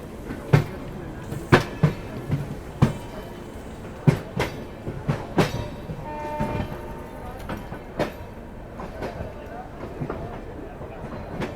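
The Mumbai Rajdhani Express departs New Delhi railway station, rolling along with rhythmic clickety-clack of wheels over rail joints, sharp metallic clunks at irregular intervals, and a brief tonal whine midway.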